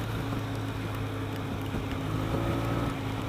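Steady, low exhaust drone from a 2016 BMW R 1200 RT motorcycle at about 55 mph, a muffled growl, constant and unvarying throughout, heard from on board with a broad rumbling wash around it.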